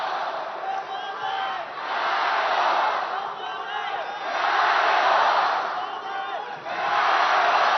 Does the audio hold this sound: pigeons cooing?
no